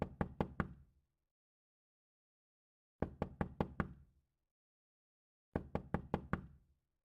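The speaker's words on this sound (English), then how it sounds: "I'm knocking on the wooden frame" Three separate bursts of four or five quick, crisp knocks on the wooden frame of a paper screen, close and clear, with silent pauses between the groups.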